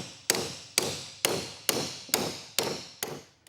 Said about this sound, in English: Get a hammer and just whack them all.